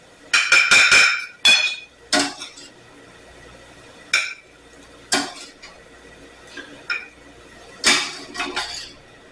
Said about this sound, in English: I'm going to take my onions out and put them in a separate plate here.